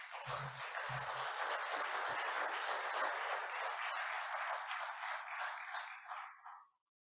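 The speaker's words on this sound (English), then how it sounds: "this deserves a round of applause" Steady applause from an audience at an Interact club gathering, a sustained even wash of clapping heard at a distance for about six seconds, with a few faint voices at the start, before it cuts off.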